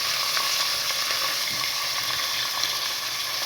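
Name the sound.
mixed vegetables sautéing in a pan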